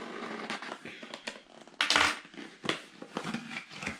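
Cardboard box being cut open by hand, with scattered close scraping, tearing and crinkling bursts and a louder rip partway through, no speech over it.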